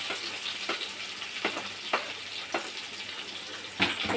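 Onion frying in oil with Bengali five-spice tempering, a soft steady sizzle marked by a handful of light, spaced spatula scrapes against the pan, no speech.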